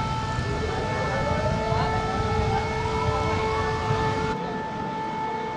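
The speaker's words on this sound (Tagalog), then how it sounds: "pinatunog na ang sirena," A civil defense siren sounds as a flood alarm for rising river water in Marikina, its steady drawn-out wail sweeping over continuous background noise for the whole stretch before easing slightly near the end.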